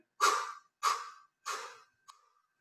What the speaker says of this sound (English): that's the sound breathing out the mouth